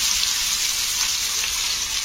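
Paste of black cumin, fenugreek, curry leaves and amla sizzling in hot oil for homemade herbal hair oil, a steady close hiss and crackle running without a break.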